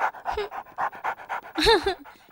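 A police dog pants rapidly and loudly while sniffing, rhythmic breaths close up with a brief whine near the end.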